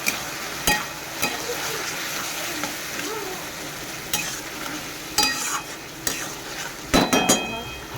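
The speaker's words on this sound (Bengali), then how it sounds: "এই সবজিটা আমি আবার নেড়ে দেবো।" Vegetables seasoned with salt and turmeric being stirred in a pan, with a soft continuous sizzle, scattered spatula scrapes and a few sharp clinks of utensil against metal, close and without talk.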